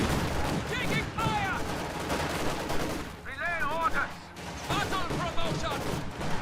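Soldiers firing guns in the strategy game Company of Heroes 2, with grenadiers and conscripts in battle: a steady rattle of gunfire and scattered shots throughout, mixed with voice-like battlefield calls and a brief lull in the middle.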